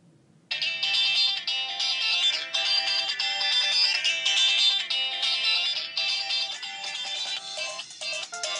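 A phone ringtone plays loud and steady for about eight seconds, a bright, dense electronic melody of repeating tonal notes that starts abruptly after a brief quiet moment, with no voices over it.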